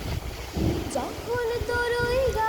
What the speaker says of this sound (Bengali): দেখেন গাছপালাগুলো বাতাসে কি করতেছে